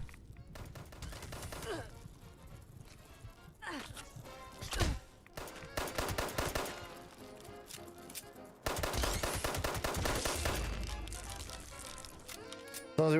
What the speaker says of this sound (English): I should have made this an automatic weapon.